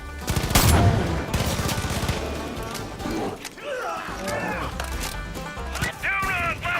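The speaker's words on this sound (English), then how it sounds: "guess the Spas-12 is gonna get some action" Spas-12 shotgun blasts in Far Cry 5 gameplay, loud repeated gunfire with sharp cracks amid a busy mix of game sounds, with a voice talking over the action.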